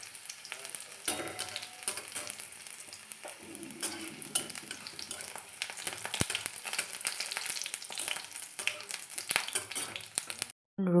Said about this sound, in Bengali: রসুনটা এখন ভালো করে ভেজে নেব।